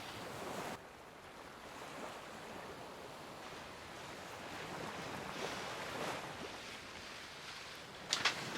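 Steady wind and rushing ocean waves surround a sailboat sailing at sea toward Fiji in about 20 knots of beam wind, a continuous broad wash with a brief sharp knock near the end, no voices.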